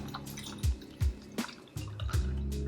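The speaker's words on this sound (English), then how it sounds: "then you just fill up the rest with some good water" Water is poured into a glass to top up a concentrated ginger gut tonic, coming as a series of irregular close drips and splashes over a soft steady trickle.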